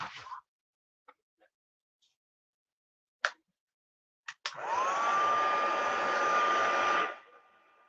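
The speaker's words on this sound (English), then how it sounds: "Might just hit that with the heat gun." After a few quiet clicks and taps, a heat gun switches on near a Christmas bauble bow and whirs with a steady airy blowing hum for about two and a half seconds, then cuts off.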